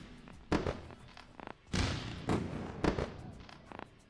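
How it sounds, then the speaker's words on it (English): Fireworks sound effect on a live trading stream: a series of sharp bangs and thuds at irregular intervals, some in quick clusters, fairly faint and without speech. "Let's get the fireworks."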